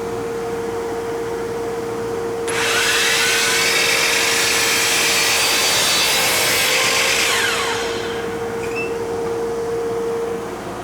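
A table saw slices through wood for about five seconds, its bright rasping cut rising over the steady roar and hum of a woodshop dust collector running throughout.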